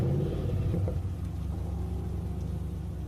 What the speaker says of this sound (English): I heard an engine start.